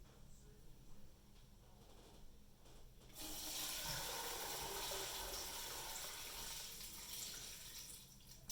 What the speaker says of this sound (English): I'm going to put a strainer over the top of a pot, and I'm going to pour this in